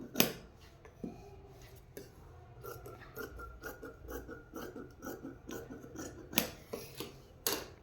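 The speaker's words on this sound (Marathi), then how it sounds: "त्यानंतर हा क्रॉसपट्टी कापून घ्यायची." Scissors snip through a cross strip of fabric while a four-tuck blouse is cut out, with irregular sharp snips and faint rasping of blades against the cloth, close up and with no talking.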